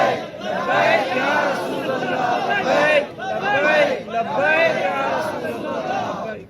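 Large crowd at an Islamic religious conference chanting slogans in loud, sustained massed voices, rising and falling in waves with brief dips between chants.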